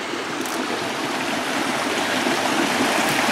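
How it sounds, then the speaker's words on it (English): A river on the Bear Creek trail flows with a constant, loud broadband rush of moving water, steady throughout with no voices. "Here's that other river."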